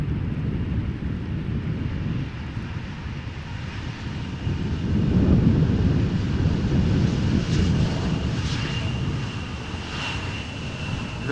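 An Embraer 175 airliner arrives at Amsterdam Schiphol in gusty crosswinds, a broad rumbling engine roar that swells mid-pass and then eases, heard at a distance with some wind buffeting.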